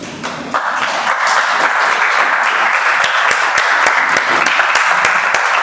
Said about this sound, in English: Applause must go on, everyone.